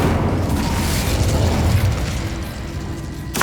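Incendio fire spell blast in the game Hogwarts Legacy, a loud roaring whoosh and boom that fills the sound, fading down before a short sharp pop at the end.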